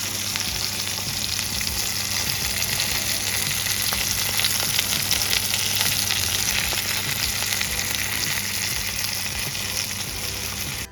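Chicken pieces frying in a pan until golden, a loud, steady, continuous sizzle with faint crackles that fills the whole stretch without pause.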